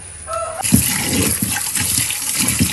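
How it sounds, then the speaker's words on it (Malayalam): Running water splashes steadily over meat being washed clean, a continuous close rush that starts abruptly after a brief quieter moment. "അപ്പം ഞാൻ അതൊക്കെ ഒന്ന് കഴുകി വൃത്തിയാക്കി എടുക്കാം കേട്ടോ"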